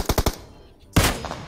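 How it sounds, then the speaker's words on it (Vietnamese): Short burst of rapid automatic gunfire in PUBG Mobile from a hilltop, three quick shots then a louder crack after a pause, with a faint voice underneath. "trên đồi bắn mình này"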